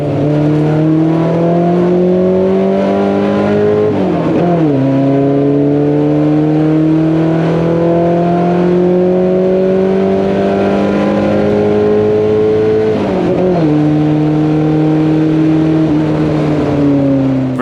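A Ford Pinto race car laps Barber Motorsports Park at full throttle, its engine droning loud and close while it climbs through each gear, with two sharp upshifts breaking the rising pitch.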